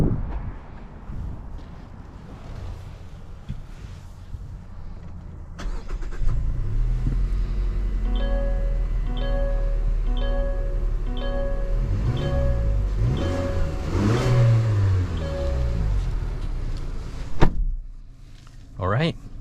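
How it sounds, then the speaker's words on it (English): A 2023 Mazda CX-50 with the non-turbo engine drives along: a steady engine and road rumble runs under cabin noise, with a chime-like tone pattern and rising and falling engine sweeps partway through, plus a thud near the end. "take this Mazda CX-50 on a test drive and see how it does."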